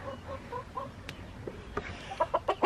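Chickens clucking close by in a farmyard near a freshly filled water spot, soft scattered calls at first, then a run of louder, rapid clucks toward the end, with no talking.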